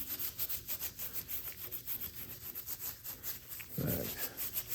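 Lacquer thinner being rubbed by hand over the painted finish of a Raleigh Sports Tourist bicycle, a steady rhythmic scrubbing with quick repeated strokes, close and moderately loud, with a brief louder swipe near the end.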